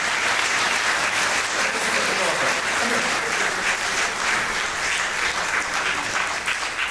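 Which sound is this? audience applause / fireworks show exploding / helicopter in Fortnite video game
audience applause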